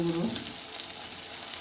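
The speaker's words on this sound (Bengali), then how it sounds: "সব দিয়ে আমি এটা একটু ভেজে নেব, মিশিয়ে ভেজে নেব" Ginger paste, cumin paste and ground coriander fry in a pan for a fish kofta curry, a close, even hiss of sizzling with a soft stirring scrape at the very start.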